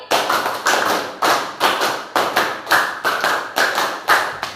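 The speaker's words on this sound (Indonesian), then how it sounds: "tepuk 1, tepuk 2, tepuk 2, tepuk 3, tepuk 3, tepuk 5 3 kali." Sixth-grade elementary school pupils in a classroom perform a rhythmic clapping exercise: loud, crisp bursts of unison claps come in counted groups, each burst separated by short pauses, with no talking.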